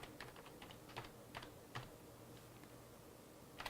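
A command being typed on a computer keyboard at a Windows 10 command prompt, with quick, quiet, irregular keystrokes clicking in close succession and no talking.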